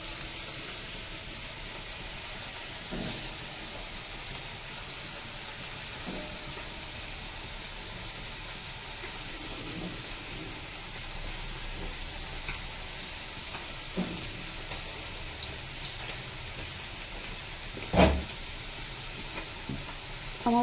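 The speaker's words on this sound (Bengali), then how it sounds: "এই কড়াইতে আমি দিয়ে দিচ্ছি আলু।" Potatoes frying in a wok on a gas flame at high heat: a steady, fairly quiet sizzle with a few scrapes and clinks of a spatula stirring them, and no speech.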